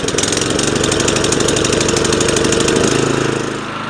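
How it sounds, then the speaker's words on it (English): A 25-inch California Trimmer Catalyst reel mower's engine runs loud and close with a steady, rapid mechanical chatter, then eases off slightly near the end; no voices. "let's go ahead and start up the mower and get on with our first mow of the perennial rye"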